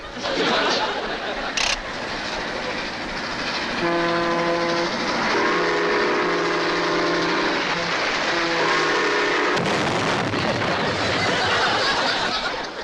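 Postwar Lionel O gauge model trains rumble loudly along a track, with a sustained multi-tone horn blaring in the middle before the rolling clatter continues.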